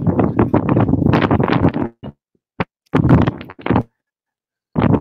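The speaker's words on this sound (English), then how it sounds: "That's a bit windy." Gusty wind buffeting a microphone on a boat in a Queensland harbour, loud rough rumbling bursts that stop and start in uneven gusts with short quiet gaps.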